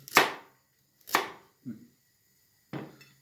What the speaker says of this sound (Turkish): jülyen jülyen doğrayacağım.